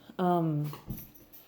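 A dog gives one short, high whimpering whine that falls slightly in pitch, followed by a few faint soft rustles and small noises close by.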